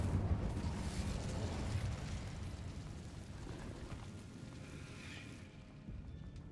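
The Incendio fire spell goes off in Hogwarts Legacy as a broad, rumbling whoosh of flame that slowly fades over several seconds, full and close, with no speech.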